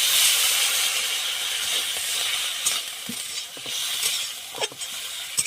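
Water poured into a hot pan of oil and spices, hissing and sizzling loudly at first, then settling into a steady simmering sizzle with a few small clinks.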